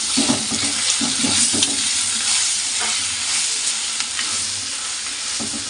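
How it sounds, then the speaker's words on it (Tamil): Tomatoes sautéing with ginger garlic paste in a pan for a Kerala-style chicken curry, a continuous loud sizzle with a few spoon scrapes and stirs scattered through, close up with no voices. "தக்காளி சேர்த்து நல்லா வதக்கி விட்டுடலாம்"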